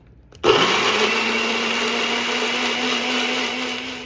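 A blender starts abruptly and then runs at a steady, loud whir, mixing a sauce seasoned with garlic powder and pepper. The motor's even drone holds without a break for several seconds.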